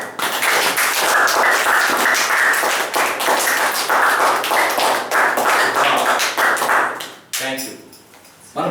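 A congregation at a Sunday church service in Hyderabad claps hands together in a loud, dense, steady rhythm for several seconds, then fades as the clapping stops.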